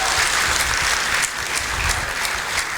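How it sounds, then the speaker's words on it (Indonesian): Applause from an audience at a computer security talk, a continuous wash of dense clapping lasting a few seconds with no talk over it. "Tepuk tangan dulu dong untuk Mikrotik."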